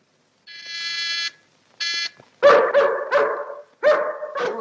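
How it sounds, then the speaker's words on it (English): A dog barks repeatedly at night in a 1944 Sherlock Holmes film, loud sharp barks in uneven bursts, preceded by a harsh buzzing tone. "Don't like the sound of that dog."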